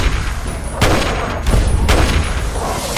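Gunfire in the Fallout 3 video game, a few heavy booming shots a second or so apart over a dense, loud wash of battle noise.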